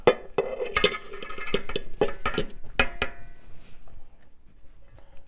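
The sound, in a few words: whisking dry baking ingredients in a bowl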